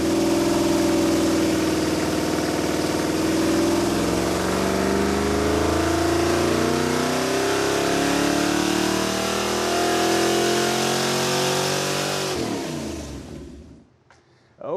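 A loud, rumbling Mopar 440 Six-Pack V8 with Hooker Super Comp fender well headers runs close by on a dyno with a throaty exhaust note, rising and falling in revs before cutting off near the end.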